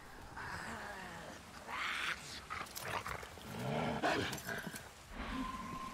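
Dog growling and snarling in the video game Resident Evil 6, a rough, throaty rumble rising in several bursts over about six seconds amid other game noise, fairly close and moderately loud.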